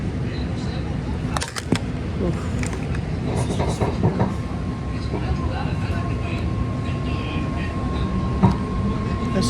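A six-car BART Green Line train to Daly City pulls away from West Oakland station, its rumble, rattles and wheel squeals rising and continuing under a spoken voice.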